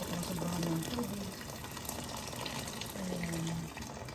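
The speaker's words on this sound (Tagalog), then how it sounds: "lalagay na natin siya guys ng tubig na mainit" Hot water pours steadily into a container of noodles with a soft splashing gush, while faint talk murmurs in the background.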